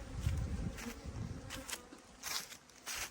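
Honeybees buzz at a water source outdoors, several insects droning nearby with rising and fading passes over a soft background.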